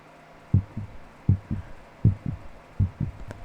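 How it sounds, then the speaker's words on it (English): A slow, steady heartbeat thumps in regular paired beats, close and muffled, repeating about four times with nothing else around it. "The first sound I hear when I wake up is my own heartbeat."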